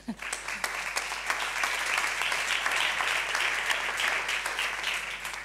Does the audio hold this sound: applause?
yes